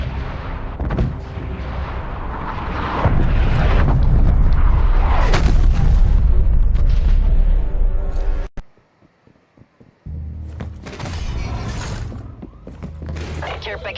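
Artillery strikes in a video game land as a long, heavy, rumbling barrage of booms. The blasts cut to near silence for a moment, then another loud burst of explosions follows.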